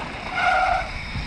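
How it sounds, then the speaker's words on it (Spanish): Wet disc brake on a mountain bike at a bike park squeals briefly, a loud close high-pitched screech lasting under a second over trail rumble. "Mi freno se está mojando y por eso suena así."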